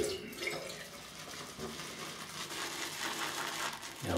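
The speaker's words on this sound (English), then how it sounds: "add some more water there." Water runs from a tap into a shaving bowl during bowl lathering, a steady close rushing wash with small clinks and splashes throughout, no voices.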